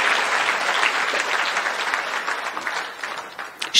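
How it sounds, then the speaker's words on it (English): A crowd claps steadily and fairly loudly throughout, a dense wash of hand claps that thins slightly near the end. "Clap for Jesus."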